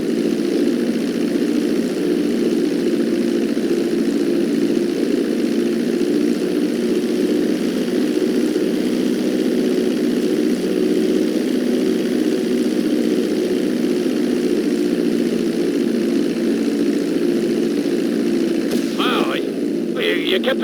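A propeller airplane taxis along a runway in the video game GTA 5, its engine holding a steady, loud droning hum with no break from start to finish.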